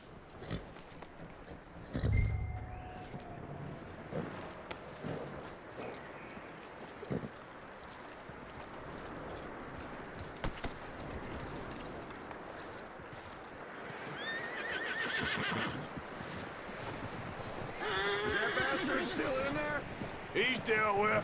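A horse whinnies and clip-clops along in Red Dead Redemption 2, amid game-like ambience and effects, with a voice speaking at times over the hooves.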